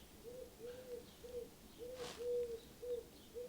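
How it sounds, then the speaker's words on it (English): A bird calls outdoors on an overcast day after rain, repeated short cooing notes in an even rhythm, faint and somewhat distant over low background hiss. "As the bird cries,"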